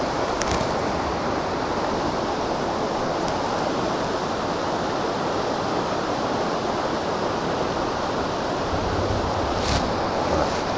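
Esopus Creek pours steadily into a larger body of water, a broad, unbroken rush of flowing water like surf that holds at one level from start to finish with no voices.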